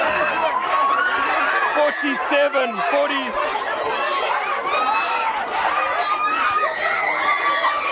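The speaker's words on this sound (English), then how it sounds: "The crowd can't hold back any longer." Crowd at a schoolboy interschools rugby match between Jan Van Riebeeck and Dirkie Uys erupting in steady cheering and chatter after a 47-40 finish, loud and continuous, with a commentator talking over it.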